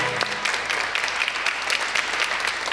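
An interview show audience applauds, a dense, even burst of many hands clapping close by that runs without a break for a few seconds.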